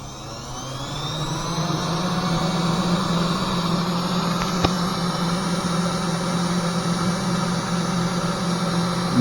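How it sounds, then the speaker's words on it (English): A custom CNC machine's spindle runs at a steady, even hum with a faint rising whine, continuous and close, with a single sharp tick midway and no talking. "I'm going to start up the spindle."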